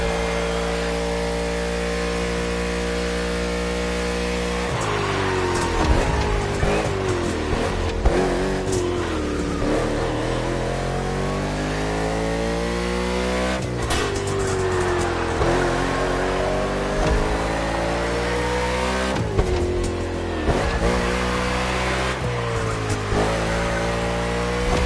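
A NASCAR race car engine in The Crew racing game, a loud, sustained roar that rises and falls through repeated gear shifts and accelerations across the whole stretch.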